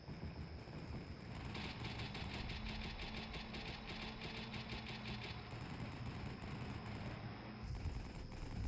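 Combat Mission Black Sea gunfire and a Humvee engine, with a steady engine rumble under continuous rapid gunfire bursts from troops and air guards, dense and unbroken throughout.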